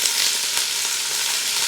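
Onions and mushrooms hit butter melted to just about smoking, giving a bright, even crackling sizzle that stays loud and constant at close range.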